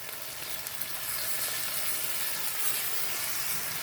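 Eggs sizzle and fry for an outdoor omelet on a BLACKSTOVE PICNIC camping stove, giving a steady, close, bright crackling hiss with no talk.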